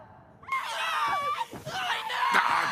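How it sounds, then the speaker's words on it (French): A child screams in a long, loud, strained wail that rises and breaks into several shrill bursts, with a brief dip in the middle, in an animated anime scene. "Arrêtez de crier, sale gosse!"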